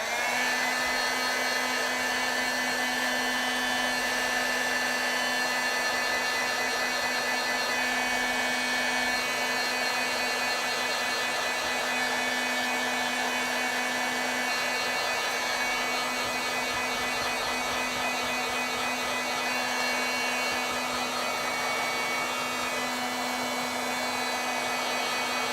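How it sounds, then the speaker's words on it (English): Heat gun blowing hot air over freshly stamped ink, a steady loud whirring blast with a constant hum that runs unbroken throughout, close by and alone. "I have my heat gun right here, so let's see if I can dry this a little bit"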